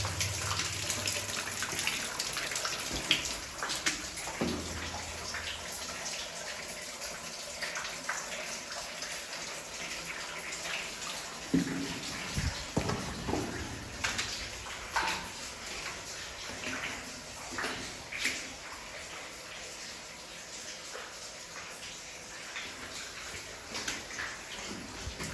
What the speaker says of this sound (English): Here we have some water coming down, I guess from the waterfall